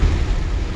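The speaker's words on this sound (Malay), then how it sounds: "Angin kuat." Strong storm wind roars beneath an apartment block, a brief, loud, buffeting rush of air with no voices.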